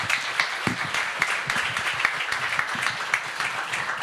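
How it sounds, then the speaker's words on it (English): Steady applause from a crowd fills the room, many hands clapping continuously at an even loudness for several seconds. "We get a round of applause for our speakers this evening."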